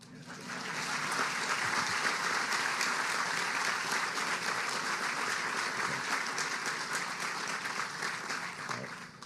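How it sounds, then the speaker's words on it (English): Sustained audience applause at a grand opening ceremony for NCSSM-Morganton, a dense, even roar of many hands clapping that swells quickly and holds for several seconds before easing slightly. "You can clap."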